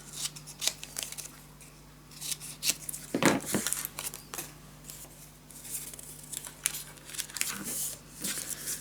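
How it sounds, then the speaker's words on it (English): Scissors snip the corners of paper for a scrapbook storage tower project. The quick, light cuts come as scattered crisp snips with paper rustling, heard close and fairly quiet. "Cut the corners."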